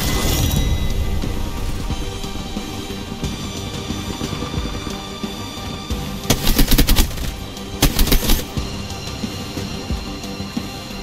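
Sustained rapid gunfire from an Apex Legends battle, a steady rattle of shots throughout with two louder, dense bursts near the end.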